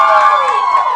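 Girls in a studio audience at a boy band's appearance screaming, a loud, shrill, sustained high-pitched cry from several voices at once.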